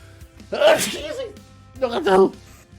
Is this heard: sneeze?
yes